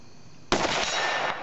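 A rifle shot from a Ruger Precision or Savage Ashbury bolt rifle striking a steel target while plinking, one sharp loud crack followed by a brief sustained ring and decay, heard alone.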